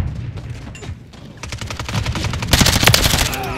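Rapid bursts of automatic gunfire in a live-streamed video game, dense repeated shots that grow louder and busier toward the end, with game sound underneath.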